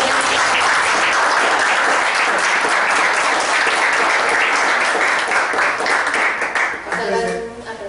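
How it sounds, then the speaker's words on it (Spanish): Loud applause from an audience at a philosophy café session, a thick, continuous roar of clapping that holds steady, then thins out near the end as a voice begins speaking. "Vamos a dar un aplauso."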